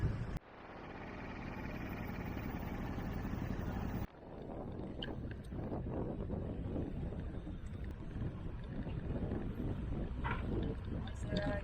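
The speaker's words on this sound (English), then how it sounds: "Yeah, another ferry ride." Riding a ferry to Siquijor in the Philippines on a cycle tour: a steady rumble of engine and water is heard with heavy wind buffeting the microphone, and two abrupt knocks break the noise.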